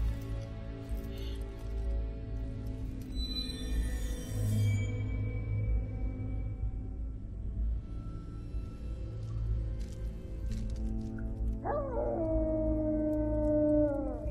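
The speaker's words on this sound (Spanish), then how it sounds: "Ahí está el lobo." A wolf howls in the video game Castlevania: Lords of Shadow 2, a long, drawn-out wail rising and falling over a dense, droning game soundtrack, with a sharper rising howl near the end.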